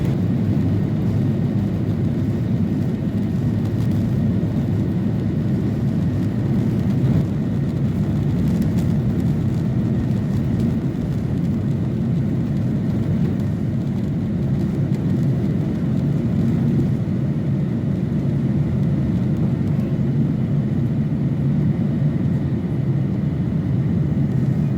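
Steady, loud jet engine rumble from an airliner taxiing, a constant low drone and broadband hiss heard from inside the cabin with no voices.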